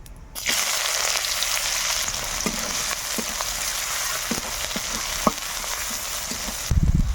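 Chopped onions drop into hot oil with whole cumin seeds in a kadai and give a loud, steady sizzle, with occasional soft stirring clicks under the frying. A brief heavier clatter comes near the end.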